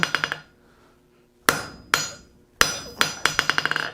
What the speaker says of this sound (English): you don't upset the other hammer blows that you just put in